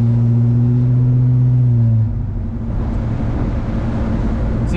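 A 1970 Pontiac LeMans with an American V8 accelerates, its deep engine note climbing in pitch for about two seconds before shifting into a broader, rougher roar that carries on loud and close, with no talking over it.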